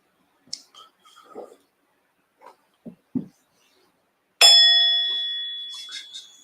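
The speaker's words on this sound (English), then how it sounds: "There's the bell." A meditation bell rings out once, loud and clear, after a few soft scattered knocks and movements in a quiet room, then fades with a long shimmering decay.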